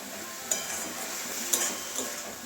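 Carrot laddu mixture is stirred in a pan under a steady soft sizzle, with a spoon scraping and tapping against the metal about three times, close and clear.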